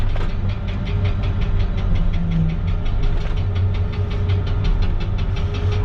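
A CAT 307.5 excavator's diesel engine runs steadily up close with a rhythmic knocking pulse, throttle held high on top of a dirt pile.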